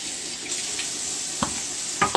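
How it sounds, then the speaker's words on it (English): Tap water runs steadily over a plate, onions and a cutting board at a kitchen sink, a constant hiss of flowing water with a few short clatters and splashes near the end. "So we rinse the plate,"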